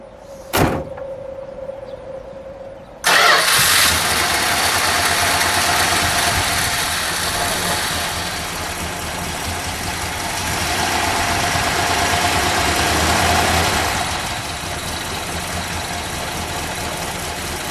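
A brief click and whine, then the 413 engine of a 1964 Chrysler 300K convertible cranks and catches loudly, settling into a steady, smooth idle that continues with a slight swell midway.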